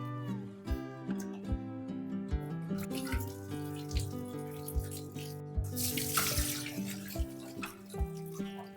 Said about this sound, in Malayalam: നല്ലതുപോലെ കഴുകി വൃത്തിയാക്കാം.